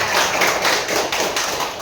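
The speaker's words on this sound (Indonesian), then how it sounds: "Tepuk tangannya" A classroom of primary school children clapping together, a dense, steady wash of many hands that stays loud and close throughout, with no voices standing out.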